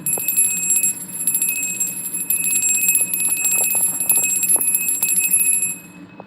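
A bright metallic bell rings steadily and continuously, with sustained high tones, then fades out near the end.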